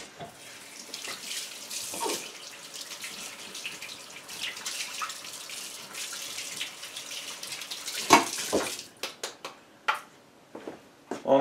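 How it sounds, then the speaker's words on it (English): Warm tap water streams steadily over a Nutri-Bullet blender blade being rinsed in a sink, a continuous close splashing gush that shifts as the blade moves under the flow, with a few sharp clinks and drips near the end. "So just give it a good rinse with some warm water."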